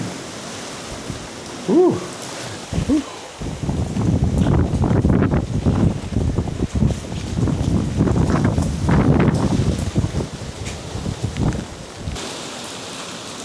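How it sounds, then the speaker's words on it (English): Strong, gusty wind from Hurricane Milton near Disney World roars in surging waves across the microphone, rising and falling loudly for several seconds, with a brief exclamation from a person at the start. "Definitely getting the gustiest wind so far of the day or the evening"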